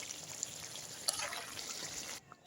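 Water trickles and pours into a pan of meat being braised with spices, a soft steady splash close by with a brief clink, then it cuts off near the end.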